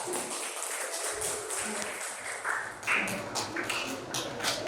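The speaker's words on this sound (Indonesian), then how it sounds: "Tepuk tangan buat Mbak Nisa." A classroom audience applauds a student's correct answer during an Indonesian teacher-training lesson: moderately loud, steady clapping of a group spread over several seconds, with voices mixed in.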